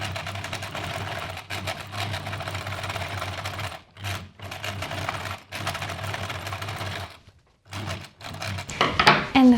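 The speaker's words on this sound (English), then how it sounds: "I can choose a super short and super thin zigzag stitch and just go over the edge" A sewing machine running a very short, narrow zigzag stitch over the edge of linen, close rapid mechanical whirring in several bursts separated by brief pauses, with no speech.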